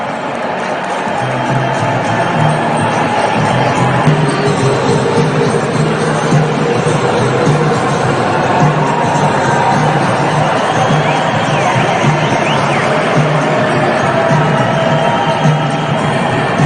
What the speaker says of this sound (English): They're still cheering, jumping up and down.